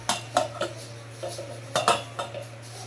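A spoon clinks and scrapes against a pot while stirring tomato chutney, making a string of sharp metallic knocks in uneven bursts over a low steady hum; no speech.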